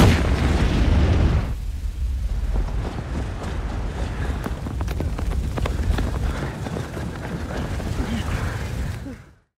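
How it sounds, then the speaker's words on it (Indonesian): A big, deep explosion booms up close, then gives way to a long rumbling roar with scattered crackles and debris before fading out. "Ledakan besar itu bikin Rasmus, Sebastian, Helmut, Ludwig, dan"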